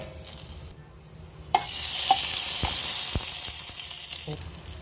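Black peppercorns, bay leaf and cloves hit hot oil for a bone (paya) soup, giving a steady close sizzle that jumps louder partway through as more spices drop in, with a few faint stirring clinks.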